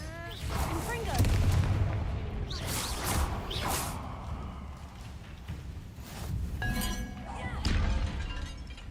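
Confringo blast spell cast in Hogwarts Legacy, loud fiery bursts and crackling impacts over a busy battle din, with a voice calling out between them.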